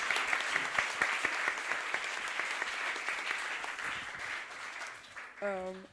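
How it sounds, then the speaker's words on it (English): Audience applauding at the SE100 Impact Pioneer Awards in Manchester's Band on the Wall venue, a sustained round of many hands clapping at moderate level before fading, with a brief voice at the very end. "round of applause for our partnership"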